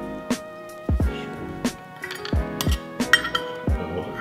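Metal utensils scrape and clink against a peanut butter jar, a series of sharp ringing taps and knocks spaced unevenly, close and clear with no talk.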